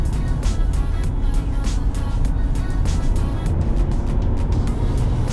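A 2006 Toyota Camry with 279,000 miles accelerates, heard from inside as a loud, steady engine and road rumble with rhythmic thumps from the road surface.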